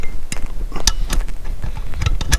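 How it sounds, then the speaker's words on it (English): A wrench loosens a lock nut on a 1973 Johnson 65hp outboard motor, giving close metallic clicks and ratcheting creaks in an uneven run of short taps. "I get in with that wrench and I can loosen up that lock nut."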